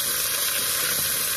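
Chopped vegetables sizzling as they sauté in a hot pan, a steady close, bright hiss running unbroken with no talk over it.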